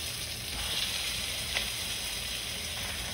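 Chicken sizzles after being added to frying onion and garlic in a pan for chicken molokhia, a steady close hiss of frying with no talk.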